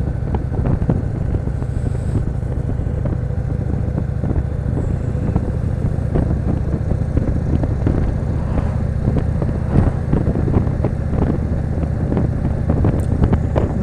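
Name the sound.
2016 Indian Chief Vintage motorcycle exhaust rumble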